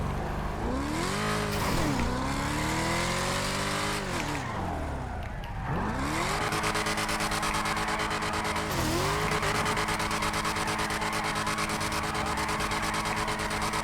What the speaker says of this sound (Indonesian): Ya tetap bisa drifting guys.